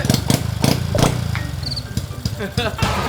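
Motorcycle engine fitted with an aftermarket exhaust, idling with uneven low chugging pulses and occasional thumps, running steadily close by while a person talks over it.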